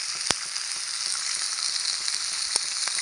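Continuous sizzling and crackling of food frying in a pan, with a couple of sharp pops, close and steady, no voices.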